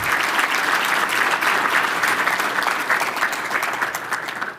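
A crowd at a port address applauds Rick Cotton for his 8.5 years of leadership, a dense, steady burst of clapping that stays loud throughout and begins to thin at the very end.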